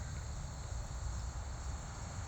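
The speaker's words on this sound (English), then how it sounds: "I don't know if you can hear the bugs." Insects outdoors at night make a constant, even drone, a dense steady chirring bed with no talk over it.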